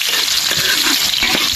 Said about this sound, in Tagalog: Gisa-gisa lang, oh. Sibuyas bawang na yan